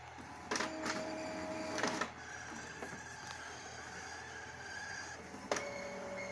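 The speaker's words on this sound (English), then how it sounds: "Let's check the print nozzle again." An Epson L3150 inkjet printer running a nozzle check print gives a steady mechanical hum with a few sharp clicks and whirring bursts from the print head and paper feed. The sound is moderately close and there is no talking.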